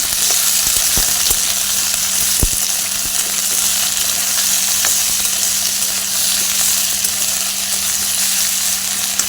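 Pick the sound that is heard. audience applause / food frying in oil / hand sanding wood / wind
food frying in oil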